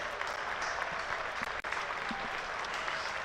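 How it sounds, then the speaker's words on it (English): A cricket crowd at a one-day cup match between Hampshire and Derbyshire applauds a reverse ramp shot from a 17-year-old batter, a dense, steady wash of clapping from a large crowd heard without pause. "And the crowd are loving this from the 17-year-old."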